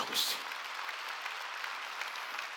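A church congregation at a Sunday worship service breaks into clapping, starting with a sharp burst and then settling into a steady, moderately loud patter, with a voice audible over it.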